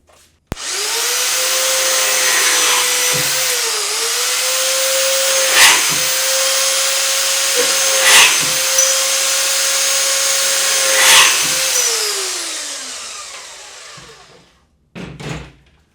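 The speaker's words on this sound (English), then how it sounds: "I pretty much always run a bandsaw with the guard down." A VEVOR portable 110V band saw with a steel base runs steadily for about thirteen seconds, its loud whining motor and blade cutting through material with a few brief bumps, then winds down, followed by short clatters near the end.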